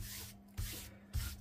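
A card being rubbed with an embossing buddy powder pad before gold embossing, giving faint, soft brushing swipes in short repeated strokes, close by and quiet.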